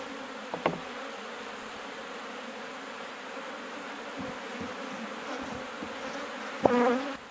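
Honey bees at a horizontal hive hum in a steady, dense drone that holds throughout, with a couple of brief sharp clicks and no talking.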